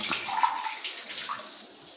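A steady stream of water pours and splashes over washed rice in a vessel, continuous and fairly close, with no voices.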